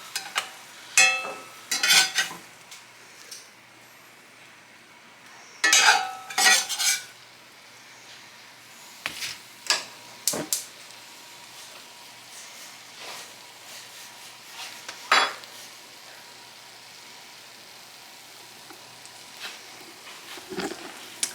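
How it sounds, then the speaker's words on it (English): An egg cooks in a pan for breakfast, with scattered sharp clinks and scrapes of utensils against the pan between quieter stretches of low sizzling. "I'm going to finish cooking that egg"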